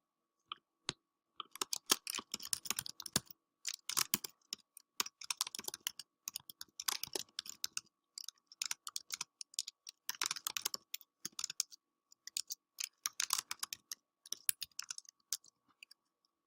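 Rapid bursts of typing on a computer keyboard, clustered keystrokes with short pauses between runs, close and crisp, no talking.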